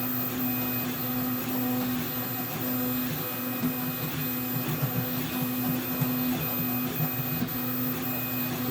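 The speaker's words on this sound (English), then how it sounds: "So at this point I can hear the extruder having a hard time." A VzBoT 3D printer running an experimental hotend and Rapido UHF at very high flow, around 40 cubic millimetres per second, with the extruder struggling. The steady mechanical whine carries a repeating tonal buzz and irregular ticks, and no one speaks.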